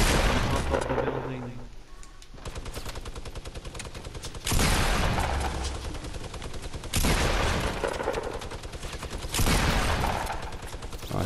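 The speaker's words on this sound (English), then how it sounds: "Took bare shots on him with his big boy gun." Rapid gunfire from the Fortnite video game crackles in loud, dense bursts that continue almost nonstop, broken by short lulls.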